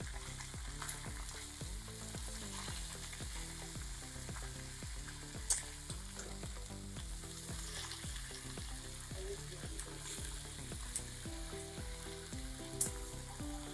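Chickpeas and leafy saag being mixed and frying in a pan give a soft, continuous sizzle with faint occasional clinks of stirring, quiet and steady beneath gentle background music.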